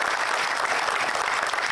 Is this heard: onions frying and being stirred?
no